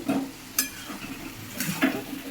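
Rice flour paste stirred into a thick ash gourd curry with hilsa fish head, cooking in a pot with soft scraping of a spoon against the metal, a few light clinks and faint sizzling.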